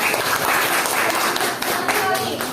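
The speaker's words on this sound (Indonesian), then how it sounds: "Tepuk tangan dulu." A room full of people claps for a few seconds during a school guidance and counseling session, a dense burst of close applause over which a voice also speaks.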